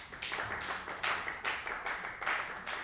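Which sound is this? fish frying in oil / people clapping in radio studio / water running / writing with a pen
people clapping in radio studio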